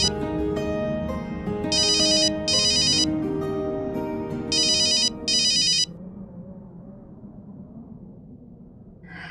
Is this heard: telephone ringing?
yes